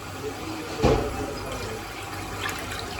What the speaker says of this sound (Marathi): गरम पाणी करते, गरम पाणी टाकते म्हणजे आवलाला नको आपलं मटण